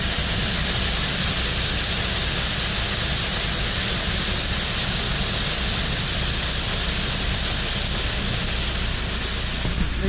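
Shelled corn pouring by gravity from a truck dump into a grain truck in eastern Iowa, a steady loud rushing hiss that holds at an even level throughout, with a low rumble underneath.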